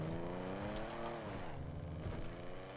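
BMW engine in the FiveM video game, revving loud and continuous for a few seconds with shifting pitch as it accelerates and eases off, like a drift car pushing hard, with no talk over it.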